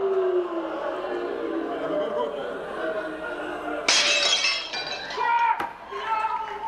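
Glass breaking and shattering in a comedic stage bit at a 1990 late-night-style corporate show, a sharp crash with scattering shards over a laughing, chattering audience and background voices.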